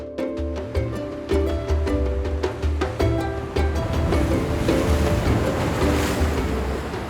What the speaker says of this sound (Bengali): সমুদ্রের গর্জনের সাথে সকালের শুরু